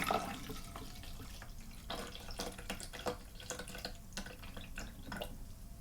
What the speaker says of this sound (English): I'll pour some water into the small measuring cylinder